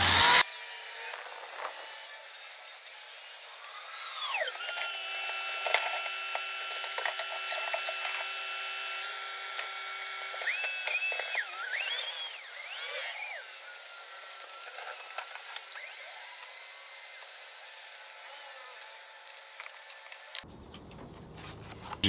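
A drill spins a steel wire wheel brush scrubbing dried glue off steel clamps, producing a harsh, gritty whirring rasp with rising and falling pitch as pressure varies, steady for around twenty seconds before stopping.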